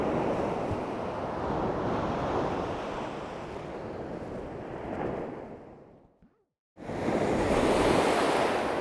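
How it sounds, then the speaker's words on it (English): Sea waves roll in at Garrarus beach, Ireland, a loud broad continuous wash of surf mixed with wind buffeting the microphone, briefly dropping out before the roar resumes. "Just have a hear about the sea. Look how the sea sounds."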